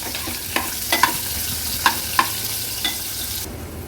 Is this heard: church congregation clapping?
no